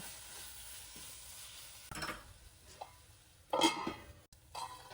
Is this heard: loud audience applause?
no